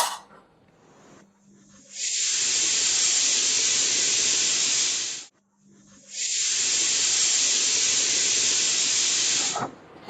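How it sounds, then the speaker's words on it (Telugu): Pressure cooker whistling while mutton kheema with vermicelli cooks: two long loud steam hisses, each lasting several seconds and separated by a brief pause, close by with no talk. "మూత పెట్టి 2 విజిల్స్ మాత్రమే, ఆల్రెడీ మటన్ ఉడికింది కాబట్టి 2 విజిల్స్ రానిస్తానండి"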